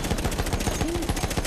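Rapid automatic gunfire in the World War I shooter Battlefield 1, a loud, evenly spaced burst of shots rattling steadily throughout the campaign battle.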